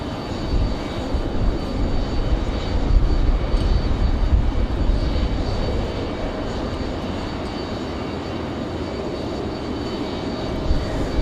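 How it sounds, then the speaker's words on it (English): A Frontier Airlines jet airliner departs Raleigh-Durham for Tampa, its engine roar loud and continuous, swelling slightly early on and then easing to a steady, somewhat distant rumble with no voices. "Frontier 3373 off to Tampa,"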